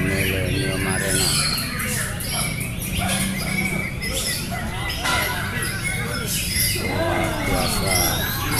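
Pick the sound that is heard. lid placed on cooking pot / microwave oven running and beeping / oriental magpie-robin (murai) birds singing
oriental magpie-robin (murai) birds singing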